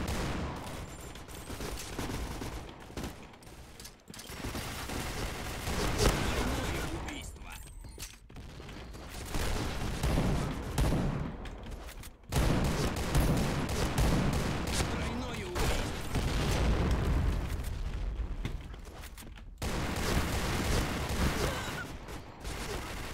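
Rapid bursts of gunfire in the video game Point Blank, dense and loud, with brief pauses between volleys and some mechanical clatter underneath.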